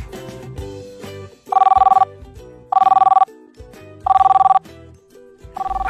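A telephone bell rings loudly in three evenly spaced bursts, with a fourth starting at the end, over a soft melodic background.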